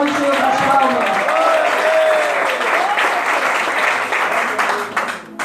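Church congregation claps together in a sustained, dense burst of applause inside a worship hall, loud at first and gradually thinning toward the end.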